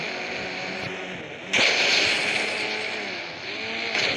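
Engine roar from a car racing in the mobile game Indian Bikes Driving 3D, a steady revving drone with a sudden louder burst midway and a faint tire squeal.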